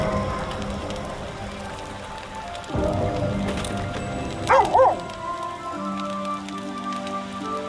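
Dog barks twice in a short burst in Baldur's Gate 3, heard over steady rain pattering on surfaces, with a low musical drone beneath.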